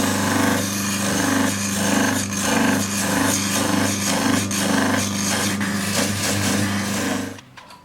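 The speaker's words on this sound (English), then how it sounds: "Now we go to the sanding stage." A homemade sanding machine about thirty years old grinds paua shell with a steady motor hum and a harsh, rhythmic rasping that swells and fades, continuous and close, before it cuts off near the end.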